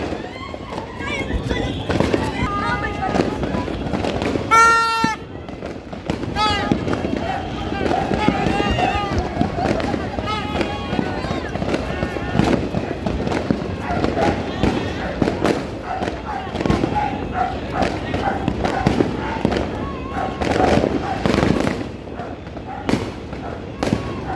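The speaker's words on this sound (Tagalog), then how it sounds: "Yung kanyang fireworks eh." New Year 2026 fireworks burst in rapid, overlapping pops and bangs all around, close and loud, while people talk and exclaim throughout.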